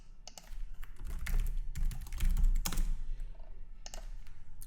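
Fingers tap rapidly on a computer keyboard while entering a new news item in a web app, dense bursts of clacking keys with a few heavier thunks, close and steady, no talking.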